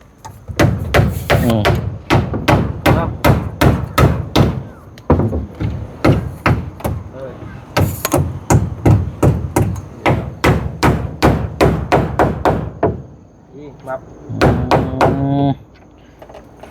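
Nails hammered into a house floor under construction ring out as a long run of sharp, close, rhythmic strikes in quick bursts with short pauses, and a voice is briefly heard.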